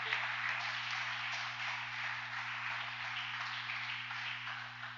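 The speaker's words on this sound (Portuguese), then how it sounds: "Aplauda ao Senhor, vamos louvar a Deus" Church congregation applauding at a family worship service, a steady wash of many hands clapping together over a low electrical hum, sustained throughout.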